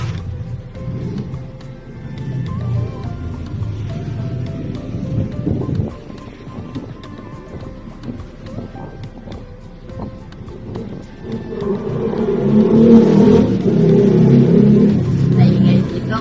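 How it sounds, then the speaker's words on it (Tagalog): Road traffic beside a roadside garden rumbles past, low passing vehicle noise swelling and fading under a person talking nearby, getting louder toward the end. "Naingay dito kasi tabi kami kalsada eh."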